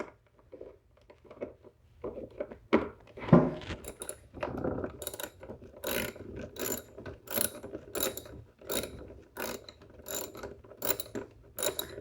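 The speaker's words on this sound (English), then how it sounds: "I'll reverse the ratchet so it tightens." Rapid ratchet clicking while a bolt is tightened on a Sunjoe scarifier/dethatcher, close and crisp, in repeated bursts of ticking strokes with a few heavier knocks near the start.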